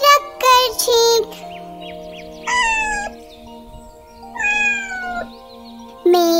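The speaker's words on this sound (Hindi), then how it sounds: "गीली होकर लगी चीखने, जोर जोर से लगी चीखने।" Loud meows from a cat in a Hindi children's rhyme about a black-and-yellow cat that got soaked in water, several drawn-out cries in a row over a musical backing.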